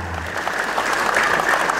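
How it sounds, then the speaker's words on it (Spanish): Applause at a 63rd birthday celebration, a brief dense burst of clapping from a gathered crowd, loud and steady for a couple of seconds. "con fuertes aplausos para la niña Yaritza"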